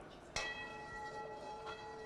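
A Tibetan singing bowl is struck once and rings with a sustained, steady shimmering tone that slowly fades, heard on its own at moderate volume.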